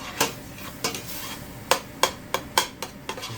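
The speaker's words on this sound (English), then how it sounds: "I'm going to keep stirring this off and on until I get it down into little bits" Spoon scraping and knocking against a pot while stirring ground venison for soup, sharp separate clanks at irregular intervals over a low sizzle.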